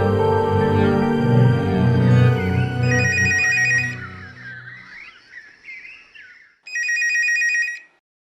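A telephone rings in a domestic drama scene, first a loud warbling ring, then a pause, then a final burst of bright trilling rings standing alone without talk.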